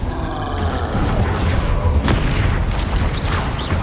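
The Confringo blasting spell in Hogwarts Legacy, amid a busy duel: a steady roar of booming impacts and crackling magic, with a sharp burst near the middle and whooshing spell effects late on.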